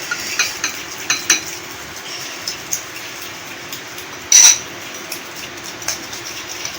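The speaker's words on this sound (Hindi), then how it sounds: "इसको इतनी देर मिक्स करना है कि ये बिल्कुल क्रीमी हो जाए।" Milk glaze for donuts being stirred until creamy in a bowl, with soft scraping and clinking of a utensil in an irregular rhythm, close and fairly quiet, with one brief louder clatter partway through.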